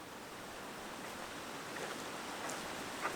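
A cold creek dammed up by beavers among willows and spruce gives a steady, even wash of flowing water, constant and moderately near, with no voices.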